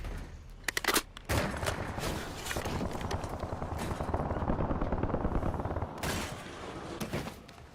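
Rapid gunfire in a battle royale shooter game, with a few sharp opening shots followed by a long, dense rattle of automatic fire, loud and sustained, punctuated by louder bursts near the end.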